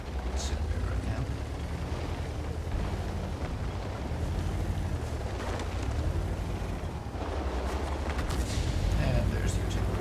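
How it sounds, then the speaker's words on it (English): Artillery fire in the World of Tanks video game, a continuous rumbling barrage of booms and distant blasts that rolls on steadily throughout, with someone talking over it. "And there's the artillery."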